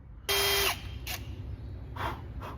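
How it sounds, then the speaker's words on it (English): A power drill bores eye holes into a wooden humpback jerkbait lure, giving one loud, steady whine of about half a second, then brief fainter bursts of drilling close to the mic. "Let's drill these holes for the eyes. I got the drill bit right here."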